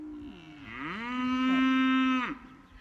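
A cow moos on a farm, one long, loud drawn-out call that rises, holds and drops off, heard alone and close.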